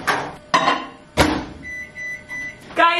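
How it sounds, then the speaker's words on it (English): Microwave oven heating coffee: door clunks and button presses, then a steady electric hum with a few beeps, near and clear, almost no talking. "I put it in the microwave for 39 seconds"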